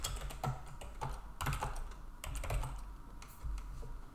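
Rapid keystrokes on a computer keyboard while entering Linux command-line input, a steady close-up clatter of irregular clicks with a few louder bursts and no talking.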